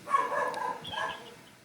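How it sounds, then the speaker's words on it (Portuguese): A dog barks a few times nearby, short yapping barks clustered within under two seconds, fairly faint against a quiet background. "tem um cachorro latindo aqui danado."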